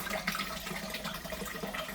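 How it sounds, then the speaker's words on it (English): A faint, steady trickle and gurgle of water comes from an ultra quiet submersible pump pushing water up, soft and continuous throughout. "There's a pump on the corner,"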